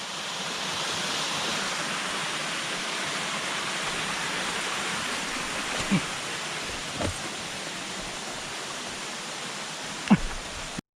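Chan Ta Then waterfall in a Chonburi forest, third tier, pours in a steady broadband rush throughout, with a few brief knocks and thumps near the listener over the continuous water noise.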